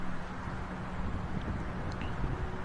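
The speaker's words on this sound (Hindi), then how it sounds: "तो बहुत ज़बरदस्त किस्म की हवा चलती है।" Steady wind rushes through an open area between two buildings with nothing blocking either side, a moderately faint, continuous broadband roar with slight gusting.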